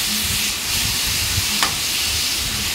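Vegetable pieces tossed with salt and turmeric in a hot pan, a steady loud sizzle and hiss throughout with faint scraping of the stirring, one brief clink partway through, no voices.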